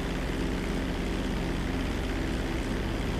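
Airplane taking off in GTA V, a steady loud drone of propeller engine noise with no change in pitch, with no talk.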